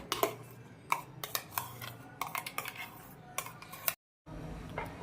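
Spoon scraping and clinking against a bowl as ground raw mango pulp is scooped out, a run of sharp metallic taps and scrapes, close and moderately loud, with a short silent gap near the end.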